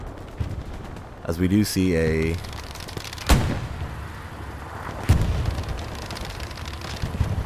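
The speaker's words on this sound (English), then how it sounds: "he might be running into some artillery shells" Artillery shells burst during a nighttime battle at Foy in the World War II shooter Hell Let Loose, with sharp blasts at intervals over a rumbling backdrop while a voice talks briefly.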